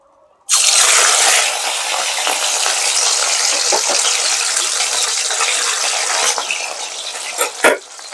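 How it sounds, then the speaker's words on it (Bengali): Katla fish pieces fry in hot white oil in a wok, a loud, steady broadband sizzle that starts abruptly and carries on without break, with a few sharper spits and pops near the end. "দেখুন মাছটা আমার মোটামুটি ভাজা হয়ে এসছে।"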